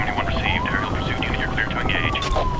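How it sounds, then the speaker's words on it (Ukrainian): In Need for Speed: Hot Pursuit (2010), a police helicopter hums and whirs steadily behind a rising and falling siren-like tone, with someone talking over the game sound throughout. "Так, гелікоптера я активував."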